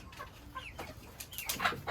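A white chicken clucks close by in a few short, scattered calls, with brief rustling between them in a quiet backyard setting.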